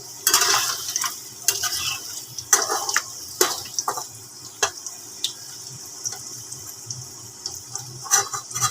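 Eggs and potatoes frying in oil, with a steady high hiss broken by repeated scraping and stirring clatters from a utensil working the pan, close and fairly loud.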